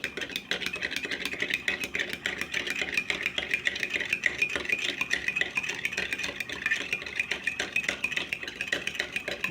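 A spoon stirs freshly made coffee with a little sugar in a cup, producing a steady, rapid scraping and rattling that keeps up evenly throughout, close and moderately quiet, with no talking.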